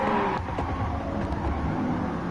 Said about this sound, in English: One thing I did like about the car is it sounds good. With a nice exhaust note on it.